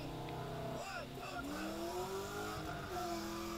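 Corvette street racing, engines revving and rising in pitch as cars accelerate, with brief tire noise, heard under excited talking throughout.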